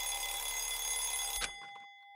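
A video game phone in Danganronpa Lapse rings with a bright, steady electronic trill, loud and continuous for over a second before cutting off, leaving a thin fading tone.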